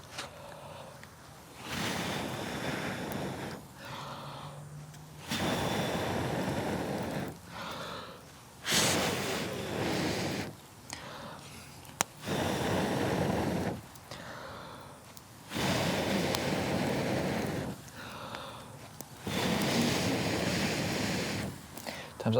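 Someone blows hard on bonfire coals to revive the fire, with long whooshing breaths in a steady rhythm and short pauses between them that are filled with quiet gasps and breathing.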